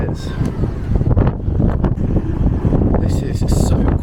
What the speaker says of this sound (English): This wind is crazy, but how beautiful that is.